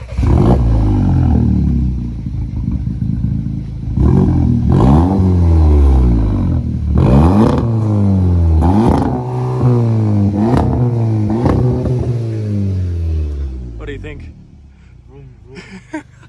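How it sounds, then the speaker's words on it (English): A Volkswagen Polo GTI 6C's loud aftermarket exhaust revs repeatedly up close, each blip rising and falling in pitch in a series of sharp surges before settling to idle and going quiet. "Do you like the exhaust? It's like the R32."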